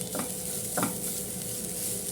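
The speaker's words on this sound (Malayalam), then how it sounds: "നല്ലോണം ഒന്ന് മിക്സ് ചെയ്ത് കൊടുക്കാം" A sweet banana mixture is stirred in a hot pan, with a spoon scraping twice against the metal over a steady close sizzle of frying.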